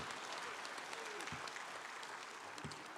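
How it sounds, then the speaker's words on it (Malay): Audience applause at a political party presidential policy speech, a steady wash of clapping hands filling the hall throughout with a few louder individual claps standing out. "Tepukan tidak cukup kuat untuk saudara Syahril dan Dr."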